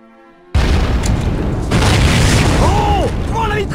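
A torpedo blows up in the Medal of Honor Pacific Assault video game. After a quiet start comes a sudden loud boom that rolls on into a sustained rumble, with warbling game sounds near the end.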